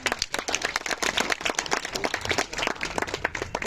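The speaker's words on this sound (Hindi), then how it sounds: "तो उनके लिए भी आप जोरदार ताली बजाएं" An audience at a school farewell gives a lively round of applause, with close, rapid overlapping claps that keep a brisk uneven rhythm for the whole stretch.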